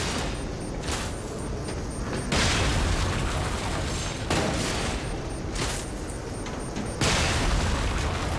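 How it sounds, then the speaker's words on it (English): Explosions burst in the air in the Lies of P video game, a dense rumbling barrage with several loud booming swells repeating across the stretch, continuous and close. "why are they exploding in the air?"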